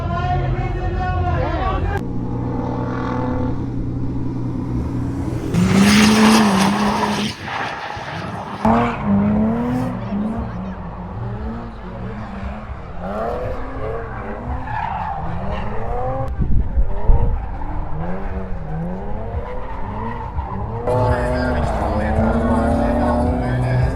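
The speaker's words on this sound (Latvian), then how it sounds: "maucam pastīties, kā notiek riepu dedzināšana" Drift cars, including a BMW E34, skid and burn their tires at a drift event in Dundaga, with engines revving and wailing tire squeal rising and falling over a crowd's chatter and people talking nearby.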